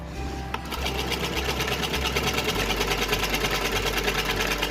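A sewing machine runs a straight seam on a small summer night suit, its rapid needle chatter steady and close, starting after a brief pause and continuing evenly.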